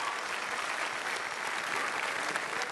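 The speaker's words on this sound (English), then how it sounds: "A huge round of applause for our organizing committee" A large audience at the Coupe du Monde de la Pâtisserie applauds the organizing committee, a continuous, even roar of clapping heard from some distance and sustained throughout.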